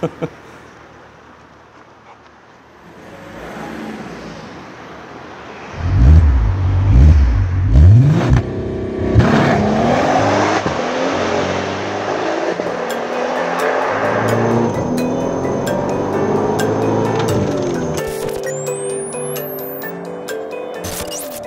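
A Passat R36 turbo car quiet at first, then launching hard with a loud engine roar and rising revs, shifting through gears as the whine climbs and holds at speed.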